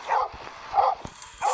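A dog in the horror video game Metel barks three times in an even rhythm, loud and close, with faint thumps and game ambience between the barks.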